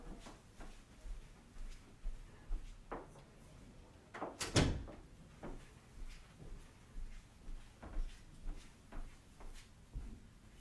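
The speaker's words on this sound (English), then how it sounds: "let me close my door" A door is pushed shut indoors in a home, giving one brief, fairly close thud amid quiet room noise and a few softer knocks.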